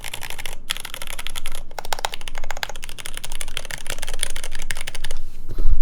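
Rapid, steady clacking of keystrokes on an iF-75 mechanical keyboard, close and fairly loud, running continuously with only brief pauses and no voices.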